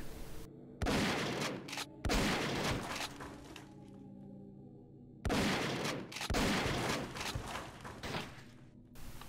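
Shotgun fire in the Flash zombie shooter SAS: Zombie Assault, loud bursts of rapid blasts in several volleys separated by short pauses, with no talking over them.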